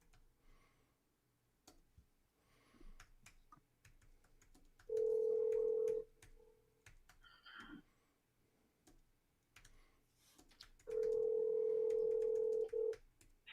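A phone call placed twice in a row, each attempt giving a steady held tone of about a second or two, the two tones several seconds apart with quiet room noise and faint clicks between them.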